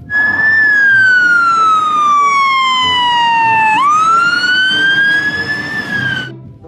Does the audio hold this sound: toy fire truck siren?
yes